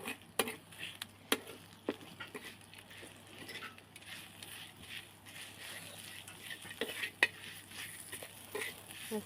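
Green chilli thecha being stirred and mixed in a pan, with soft scraping and clinks of a spoon against metal at an irregular pace over a faint sizzle, fairly quiet throughout.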